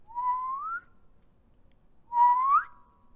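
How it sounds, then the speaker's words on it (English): A person whistles by drawing air inward, two separate rising tones close to the listener, each lasting under a second, with a short silence between them and no talking. "How do you suck in whistle?"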